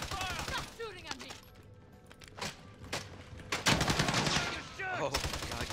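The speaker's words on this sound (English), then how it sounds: "Stop shooting at me." Rapid gunfire in a first-person shooter game, bursts of automatic fire and sharp single shots crowding together, loud and close, with voices of players talking over the shooting.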